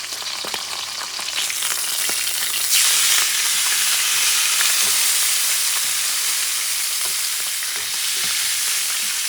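Top sirloin steak fat searing in a hot stovetop pan, a loud, close, continuous sizzle with steady hissing and small crackles, growing stronger partway through.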